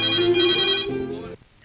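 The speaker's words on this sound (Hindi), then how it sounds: "हे उर्मिला, कोई फोन किया था क्या?" A phone ringtone plays loudly and close for over a second in a Hindi action film scene, a steady tonal electronic melody that shifts pitch partway and then cuts off into quiet.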